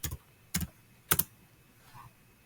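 Short bursts of keystrokes clatter on a computer keyboard as a command goes in, three quick clusters of clicks about half a second apart, close and crisp, with a faint last tap.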